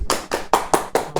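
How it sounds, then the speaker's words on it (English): Sharp hand claps ring out in a quick, even rhythm, about six loud close claps in just over a second, with nothing else audible. "Clapped at the same time."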